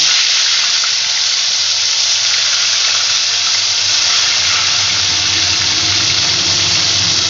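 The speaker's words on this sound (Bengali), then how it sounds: "এবার আস্তে আস্তে আমি গ্যাসের ফ্লেমটাকে মিডিয়াম রেখে মাছগুলোকে ভেজে নিচ্ছি" Katla fish pieces fry in oil over a medium gas flame, a loud, steady, unbroken sizzling hiss that stays even throughout, with no speech.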